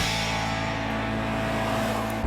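A 2014 Toyota Corolla LE ECO drives along with a steady, loud engine and road drone heard from inside, continuous and even.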